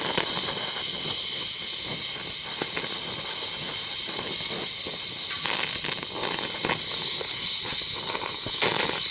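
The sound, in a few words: torch hissing while brazing car body metal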